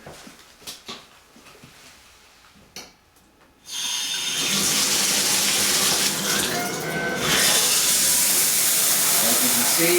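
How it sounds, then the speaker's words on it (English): Cold water from a Mary 1779 multi-colored LED temperature-controlled shower head bursts on after a few soft knocks, then pours as a steady, loud broadband rush that swells slightly partway through. "I'm going to go ahead and turn on the cold water."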